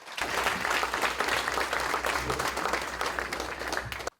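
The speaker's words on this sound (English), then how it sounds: "So another round of applause for Miami-Dade County" At a transportation awards ceremony, an audience claps in a dense, sustained round of applause for about four seconds, moderately loud, before it cuts off abruptly.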